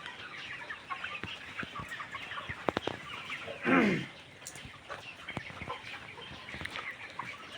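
Chickens on a poultry farm where some birds have fowl pox, clucking and calling steadily at close range, with one louder, longer squawk standing out midway and no talk.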